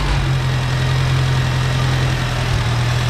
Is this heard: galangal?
no